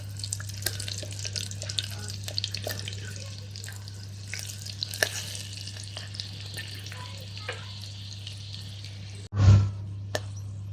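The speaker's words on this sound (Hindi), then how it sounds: "इसमें डाल दिए तेजपत्ता, कटा हुआ हरी मिर्च और थोड़ा इसको कर लेते हैं फ्राई।" Bay leaves and chopped green chili fry in hot oil while cooking an egg curry, giving a steady crackling sizzle with scattered pops and a low hum, ending in a brief louder thump.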